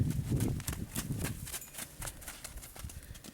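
A sweet-natured horse with degenerative suspensory ligament disease clip-clops at a steady walk, hooves tapping in an even rhythm, close and moderately loud over a low rumble that fades after the first second.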